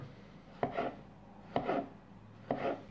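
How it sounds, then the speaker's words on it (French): A knife slices potatoes into rounds on a cutting board with three crisp, evenly spaced chops, each followed by a brief scraping crunch, close and fairly quiet. "On coupe les patates en rondelles."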